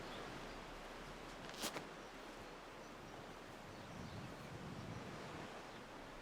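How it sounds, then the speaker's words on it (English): Strong right-to-left wind across an open disc golf course during a tournament round, a steady broadband roar buffeting the microphone with a brief sharp gust near the start, no voices. "that's exactly how windy it is, folks"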